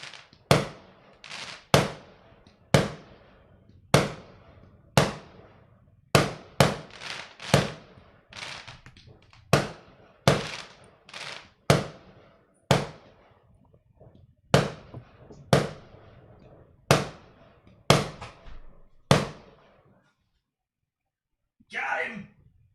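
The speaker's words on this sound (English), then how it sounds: "Oh, the fireworks." New Year's fireworks burst outside in a long series of sharp, loud cracks and booms, some in quick pairs, each trailing off in echo, then a short silence and a faint rustle.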